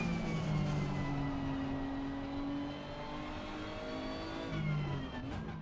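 A 2018 Nissan GTR Nismo GT3 race car in the game Assetto Corsa Competizione, its engine droning and revving steadily with slowly shifting pitch, loud and continuous with no talk.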